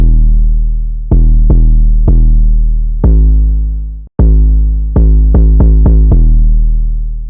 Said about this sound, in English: Here's the 808 pattern I came up with.